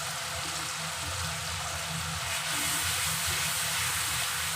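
Garlic paste and tomato fry in hot oil for a fish curry, a steady broad sizzle and hiss filling the whole stretch at moderate loudness, no voices.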